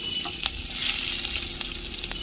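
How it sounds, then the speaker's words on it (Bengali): Chopped onion sizzles steadily in hot oil in a wok, a continuous bright crackling hiss with occasional pops, close and even throughout with no talk. "তেল গরম হয়ে গেছে, দিলাম পেঁয়াজ।"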